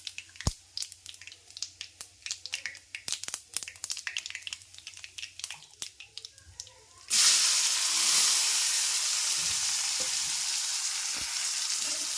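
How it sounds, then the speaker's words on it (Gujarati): Clinks and scraping give way to a sudden loud, sustained sizzle as a tempering of spices drops into hot oil for dal, the hiss staying steady and close. "આખું એવો અવાજ આવવો જોઈએ એવું કહેવું છે બધાને તો વઘાર થયો એવું કહેવાય"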